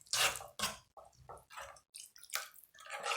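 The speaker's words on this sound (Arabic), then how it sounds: "غادي نضيف لها قليل ديال الماء" Water is poured into a pan of pizza sauce in a series of short splashing, dripping bursts with brief gaps between them, close and moderately loud.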